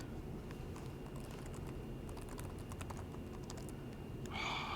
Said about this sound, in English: Now I gotta type my password in.